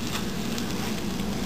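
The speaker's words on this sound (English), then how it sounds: "And again I will fry another 2 minutes" An egg roll fries in a pan for an Indian lunch-box recipe, giving a steady, even sizzle throughout with a low hum beneath, with no talking.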